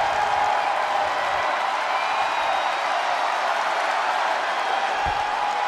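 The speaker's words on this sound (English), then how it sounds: "the folks here in Connecticut are giving her a great ovation" Arena crowd at a televised wrestling show in Connecticut gives a steady, loud ovation as a wrestler enters the ring, a continuous wash of cheering and applause with no single voice standing out.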